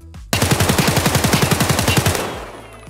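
Rapid full-auto fire from an unsuppressed SA-58 rifle in Escape From Tarkov, about twenty loud, evenly spaced shots in a steady two-second burst ending in a ringing decay.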